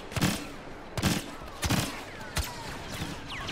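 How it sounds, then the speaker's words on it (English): Sharp gunshots from an EE4 marksman rifle in Star Wars Battlefront ring out in four spaced bursts roughly a second apart, each loud with a short tail, over a faint game background. "Using my EE4. It's classified as a marksman rifle, but it sucks balls at range."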